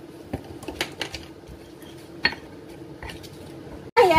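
Fried ingredients for sayur lodeh with banana blossom being ground in a mortar: irregular knocks and scrapes of the pestle against stone at close range, with a louder clatter at the end.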